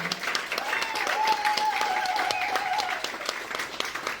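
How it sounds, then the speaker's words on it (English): An audience at a gathering celebrating the Rehearsal Club claps in a steady round of applause, dense and sustained, with a soft voice-like tone drifting faintly above the clapping. "I'd like to really give a round of applause for Patricia Hill"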